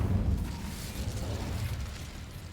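An Incendio fire spell cast in Hogwarts Legacy gives off a continuous, dense low roar with a rumbling, explosive body that stays loud for the whole stretch and fades slightly toward the end.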